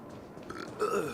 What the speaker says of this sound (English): a very loud burp